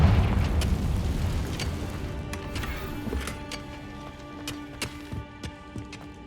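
A Confringo blasting spell in Hogwarts Legacy bursts with a loud, deep boom that rumbles and slowly fades, followed by a few scattered crackles and thuds.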